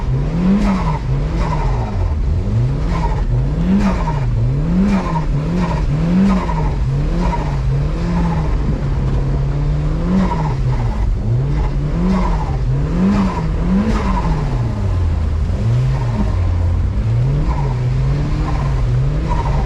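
A turbocharged Mazda Miata with the top down drives hard in snow, engine revs rising and falling repeatedly in a loud, close, continuous drone as it slides and spins out.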